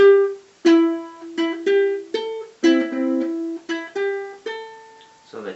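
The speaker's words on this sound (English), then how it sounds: "you're going to play an extra bass note there instead of just one" A ukulele plays a phrase from a song with an added bass note, about ten distinct plucked notes ringing one after another in a steady, unhurried rhythm, clear and close with no talking.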